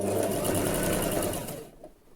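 Sewing machine running steadily as it stitches a seam on a dress, a continuous close whirring that slows and stops near the end.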